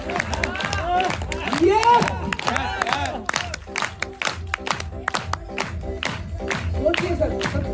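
An audience at an RCM business seminar in Botad, Gujarat claps and cheers, lively crowd noise rising and falling while a voice talks loudly over it.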